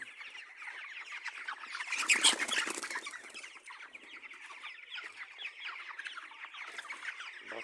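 Chickens cluck continuously in a dense, close chorus, swelling briefly louder around the middle before settling back to a steady murmur, with no voices.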